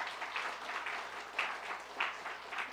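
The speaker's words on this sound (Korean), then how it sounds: "저희가 박수로 환영하고 기억하겠습니다." Congregation clapping in welcome during a Sunday church service, a steady wash of applause at moderate distance with a few louder bursts, no talk over it.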